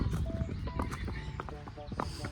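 Horse out on a ride, neighing while its hooves clip-clop on the ground, heard close up against a busy, noisy outdoor background.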